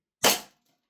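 A single sharp crack from a small C2 airsoft gas pistol fired through a chronograph, loud and close, decaying quickly into silence.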